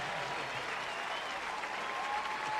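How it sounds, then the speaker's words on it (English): A stadium crowd at Lawrence Dumont Stadium gives a standing ovation after an outfield catch in a Liberal Bee Jays and Kansas Stars baseball game, a dense, steady roar of clapping from many hands throughout. "I mean, they're still clapping for him standing here at Lawrence Dumont Stadium."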